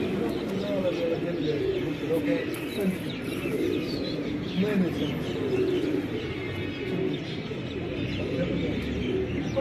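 A flock of rangdar Sherazi pigeons belonging to an Ustad coos and chirps close by in Taunsa Sharif, a continuous murmur of soft calls with faint wing flutter. People talk over it.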